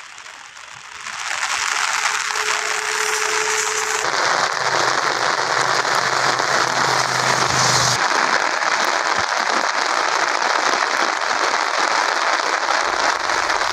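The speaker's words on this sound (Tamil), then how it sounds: "தற்போது மீண்டும் கனமழை பெய்ய தொடங்கியுள்ளதால்" Heavy rain pouring down in Tiruvarur, a dense, loud, steady wash of noise with no speech over it.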